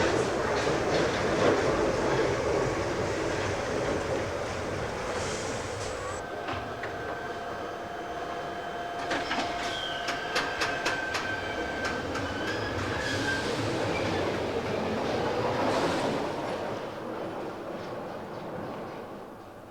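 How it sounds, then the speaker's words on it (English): A London Underground train rumbles steadily, with rhythmic clicking of wheels over the rails and a faint squeal midway, loud and close throughout. "Oh, here comes the train."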